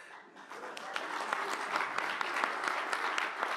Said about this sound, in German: das ist ein angemessener Applaus